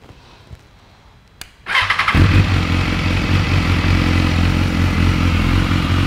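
A motorcycle engine starts with a short clatter and then settles into a loud, steady, low idle rumble, close by inside a showroom in Dubai.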